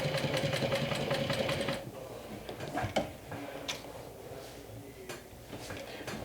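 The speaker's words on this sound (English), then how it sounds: "This is an industrial machine with a walking foot, so it makes sewing stuff like this a breeze." An industrial walking-foot sewing machine stitches a bag piece in a rapid, steady mechanical rhythm for nearly two seconds, then stops, leaving scattered clicks and handling noises from the fabric and machine.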